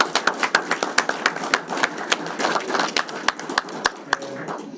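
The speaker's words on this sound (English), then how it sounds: "let's give a round of applause to these guys and what they do" Audience applause at a special town board meeting, a dense run of sharp hand claps that stays steady and fairly loud for the full few seconds before thinning slightly at the end.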